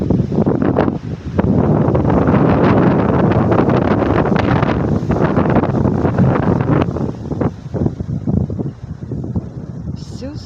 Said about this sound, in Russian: ветер поднимает воду